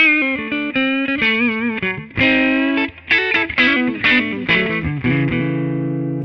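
A 2014 Gibson Les Paul Standard electric guitar is played on its neck pickup as a full humbucker, with a quick run of ringing single notes and chords, close and clear with a slight edge.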